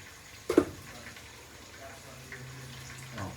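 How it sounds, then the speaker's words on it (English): Water pours briefly into a cooking pot of Spanish rice and chicken, a short splash and gush near the start followed by a low simmering hiss. "I'm just going to add a little more water in."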